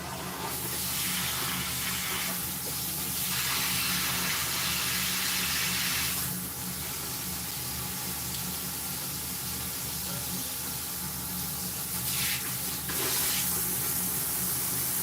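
Water gushes steadily from a salon faucet into a shampoo bowl, a constant bright hiss that swells and eases a few times over the stretch, with no talk heard.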